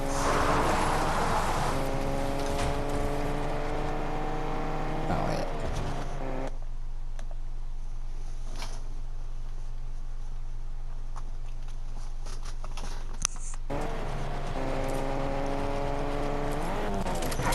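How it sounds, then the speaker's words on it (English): A car driving in a video game match, its engine drone holding steady and shifting pitch, with intermittent footsteps, clattering and other game effects layered on top, loud and continuous throughout. "I heard something, and it turned out just to be the car"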